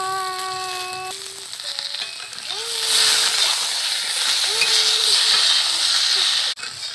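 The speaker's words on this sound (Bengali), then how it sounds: "ওই মাছ ভাজার তেলে আমি আলু বেগুন ভেজে নেব।" Potatoes and eggplant fry in a kadhai of mustard oil left over from frying hilsa, making a steady close sizzle that grows louder midway, with a few tonal voice-like sounds early on.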